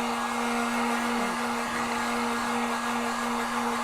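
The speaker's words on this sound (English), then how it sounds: "there's a blow dryer in there" Steady, loud whooshing hum of a blow dryer running continuously up close, drying a crackle paint project with a steady drone throughout.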